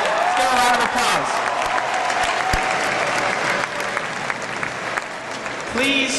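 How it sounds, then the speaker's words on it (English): Sustained applause from a large audience fills an indoor high school graduation ceremony, dense and steady throughout, with a few louder cheers and whoops rising over the clapping. "give a round of applause"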